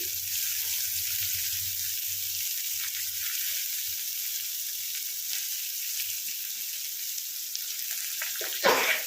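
Two medium onions frying in a pan for upma, a steady close hiss of sizzling oil with a low rumble early on and a brief clatter near the end, no talking.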